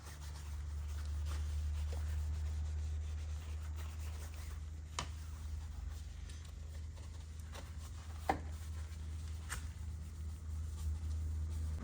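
A detailing brush scrubs cleaner-sprayed door jambs on a car, producing a steady close-up rubbing and bristle scratching throughout, with a few brief clicks and taps.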